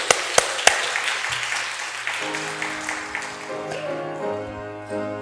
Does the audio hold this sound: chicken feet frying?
no